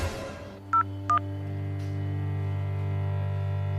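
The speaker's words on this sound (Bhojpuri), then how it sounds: "अभी हम दरोगा भूटान के फोन करता नहीं।" Two short touch-tone beeps from a phone keypad as a number is dialed, followed by a steady low hum, close and clear with no talking.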